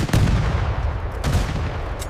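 Musket volleys in a Revolutionary War battle at Monmouth, heard as two loud cracks about a second apart over a constant low rumble of battlefield noise.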